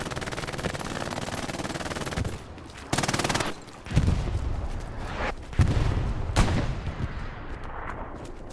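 An MG42 machine gun fires in the Hell Let Loose war game in rapid bursts among other gunfire and booms, loud and continuous across a busy battlefield, with no talk.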